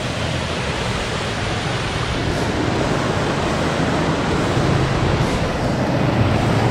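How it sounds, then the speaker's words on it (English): Water pours over the dam spillway at Gunlock Reservoir in Gunlock State Park during a rare overflow, a loud, continuous broadband rush with no letup. "And here is the overflowing dam."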